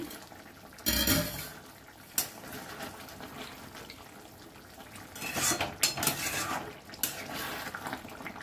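A metal cooking pot lid is lifted and set back several times while chicken dum pokto with potatoes cooks, giving sharp clanks and scrapes, clustered near the start and again later, over a quiet kitchen background.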